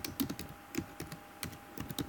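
Typing on a computer keyboard: rapid, irregular clicking keystrokes close up, quiet and steady, with no voices.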